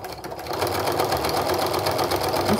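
A sewing machine stitches a quilted seam on a jelly roll Christmas stocking, a loud continuous rapid whirring drone close by.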